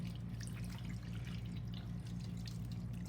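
Tap water runs steadily while soap is rinsed off hands, a continuous close splashing stream with no voices over it.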